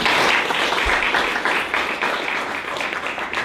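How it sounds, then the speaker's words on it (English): A round of applause from an audience at a monthly LA tech meetup for a speaker, continuous clapping at moderate loudness throughout. "One more round of applause for Derek"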